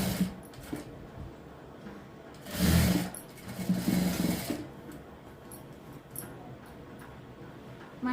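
A sewing machine runs a straight seam on a blouse sleeve joint, giving a soft ongoing mechanical hum with two louder bursts of stitching in the middle.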